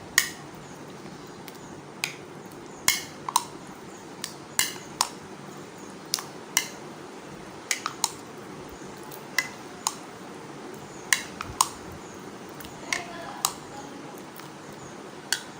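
Spoon stirring mint into vegetable raita in a bowl, giving a series of sharp, clicking taps and soft squishes at an irregular pace, close and fairly quiet, with no talking.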